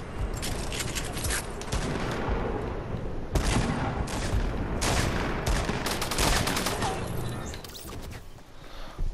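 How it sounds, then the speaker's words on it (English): Fortnite gunfire: dense, loud bursts of rapid shots and crashing impacts go on almost without pause, with brief gaps between volleys and occasional talk underneath. "Who the frick you're shooting?"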